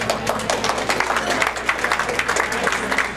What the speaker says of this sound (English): that's pretty presumptuous applause